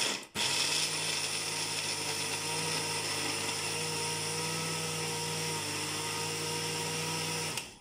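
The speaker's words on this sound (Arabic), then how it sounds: "نشغل بقى المطحنه" An electric grinder whirs for homemade tahini, starting abruptly and then holding a loud, steady motor whine with a mechanical rattle for several seconds before cutting off.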